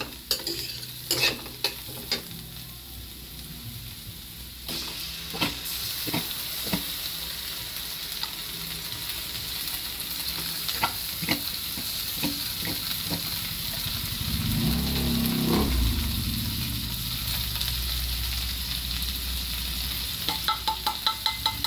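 San Marino corned tuna sisig with softened onions is stirred and fried in a pan, a steady sizzle running throughout with scraping spoon strokes and clacks, growing fuller midway, with some background noise.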